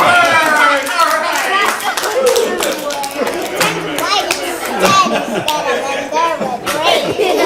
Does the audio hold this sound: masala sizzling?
no